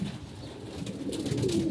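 Pigeons waiting for food give a soft, low cooing murmur in a loft on a rainy day, faint and close, over a steady background hiss.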